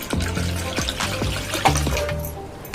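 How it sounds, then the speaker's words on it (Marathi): Cold water is poured glass by glass into a pot of jamun fruit pulp, giving a series of close splashing, gurgling pours in quick succession. "या भांड्यामध्ये मी आता 5 ग्लास थंड पाणी ओतून घेणार आहे."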